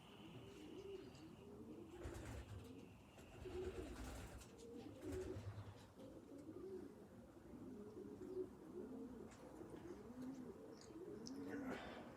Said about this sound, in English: Are they pigeons?